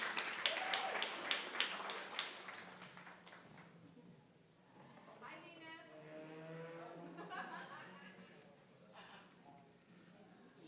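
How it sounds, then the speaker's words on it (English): Audience applause at a story night gathering, a dense burst of clapping for the first few seconds that thins out as voices and chatter take over. "Round of applause."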